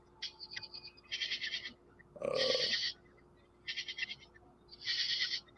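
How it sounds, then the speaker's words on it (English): Crickets or cicadas chirping outside at night: faint, high pulsed trills in short repeated bursts with brief gaps between them, heard from some distance. "You can hear our crickets."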